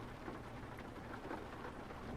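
Steady rain hisses evenly in Euro Truck Simulator 2, a faint, continuous wash with a low rumble underneath and no breaks or voices.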